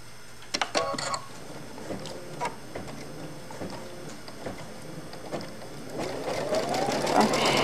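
A sewing machine tacks down the bottom of fabric for a snack bag: quick bursts of clattering needle ticks with pauses between, growing into a longer, louder whirring run at the end.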